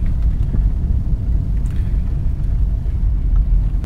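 A Nissan Titan pickup's engine runs with a loud, steady low rumble, close by and unbroken for the whole stretch, with no voices over it.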